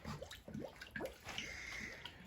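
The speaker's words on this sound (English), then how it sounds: "until it stops burping, so you guys can see it's kind of like air bubbles" Air bubbles burp up through the coolant in a Lexus IS300 radiator, making a few short, close gurgling pops with wet splashy bursts between quieter trickling.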